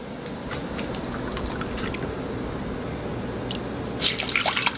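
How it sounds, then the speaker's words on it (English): Milk and water trickle and drip steadily into a container, faint and close, with a louder splash of pouring near the end. "And then I'm going to do a little bit of milk and a little bit of water."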